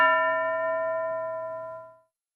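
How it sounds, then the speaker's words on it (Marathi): A single bell is struck once in a classroom quiz, ringing clearly and close with a bright metallic tone that fades over about two seconds, alone without talk. "घंटा वाजली की एकाला उभं करा"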